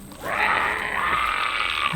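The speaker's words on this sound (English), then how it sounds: "Those blue herons do sound nasty." A great blue heron gives one harsh, rasping croak of about two seconds, loud and fairly close, in Missouri woods.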